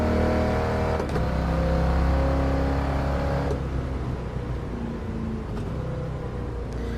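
1978 Trans Am in the video game Gran Turismo Sport: a deep, loud V8 engine rumble held at steady revs, easing slightly partway through, close and continuous with no voices.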